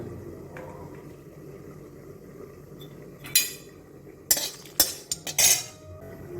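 Dried red chilli being stirred in a pan: a quiet stretch of low background, then a few sharp metallic clanks and scrapes of a utensil against the pan in quick, irregular bursts, close by, with no talking.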